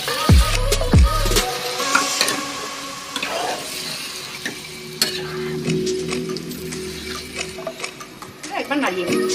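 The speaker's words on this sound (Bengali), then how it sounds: "একবার নাড়িয়ে নিচ্ছি।" Chicken patiala curry being stirred in a pan, giving a continuous sizzle with scraping spoon strokes and a few metallic knocks against the pan, heard up close.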